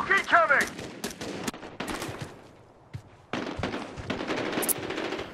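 LMG machine gun fire in the video game Medal of Honor Warfighter, rapid bursts of loud close shots broken by short pauses, with a brief high whine and background game sounds.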